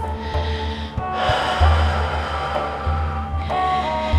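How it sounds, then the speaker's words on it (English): Deep inhales and exhales during a no-equipment hip-strengthening workout: several breathy, rushing breaths repeat at a steady pace over a continuous tonal background. "Just take some nice deep inhales and exhales."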